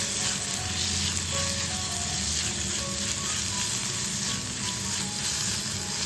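Raw mango and tomato frying in a pan for a Kerala parippu manga curry, with a steady close sizzle throughout and faint stirring, no talk.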